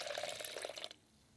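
Water poured from a container into a blender holding citrus peels, a steady splashing pour lasting about a second before cutting off to near silence, close and moderately quiet.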